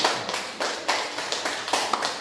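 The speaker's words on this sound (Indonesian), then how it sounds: "tepuk tangan untuk mereka yang sudah menolong" Congregation clapping during a church worship service, a sustained patter of many hands with periodic louder swells, continuous and fairly close, no speech over it.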